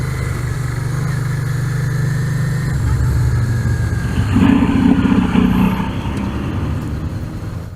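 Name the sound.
motorcycle riding over speed bumps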